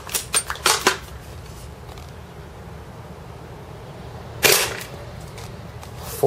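A TSD L96 spring-powered bolt-action airsoft sniper rifle fires 0.2 g BBs. Sharp close snaps and clacks come in a quick cluster as the bolt is worked and the shot fires, then a second loud crack after a quiet pause.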